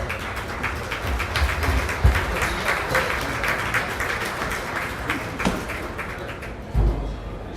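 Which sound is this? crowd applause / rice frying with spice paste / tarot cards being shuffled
crowd applause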